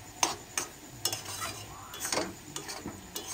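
A spoon stirs a milk mixture with cardamom in a pan, making irregular scraping clicks and taps over a faint, quiet simmering hiss, with no voices.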